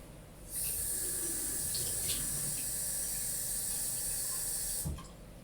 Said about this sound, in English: Next, you use the same cup, fill it with water.